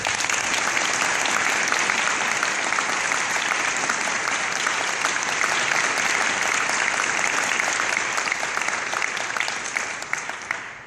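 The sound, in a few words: audience applause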